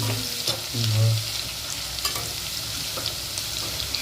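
Garlic frying in a pan for a Tamil fish curry (meen kulambu), a close, loud sizzle with stirring scrapes and a few brief clatters running throughout.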